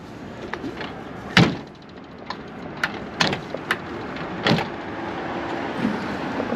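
A rusty Edsel Starliner door is wedged and pushed shut, with one heavy thud followed by several sharper knocks and clunks at close range.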